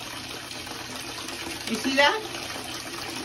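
Cold water runs steadily from a bathtub tap into a tub, a constant close gushing wash, while someone talks over it partway through.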